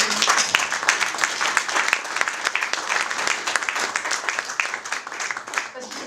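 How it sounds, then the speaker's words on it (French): An audience at an association's inauguration evening applauds its young members, with sustained, even clapping from many hands, loud and continuous throughout. "on peut d'abord applaudir l'engagement de ces jeunes d'API Association."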